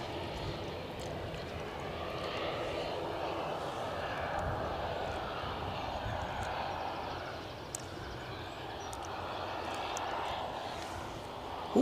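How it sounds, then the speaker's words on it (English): A WestJet ATR turboprop on final approach at Edinburgh Airport drones steadily at a distance, a continuous mid-level engine hum that stays even throughout. "we've got something else on final approach. I'll investigate while we pan with the ATR"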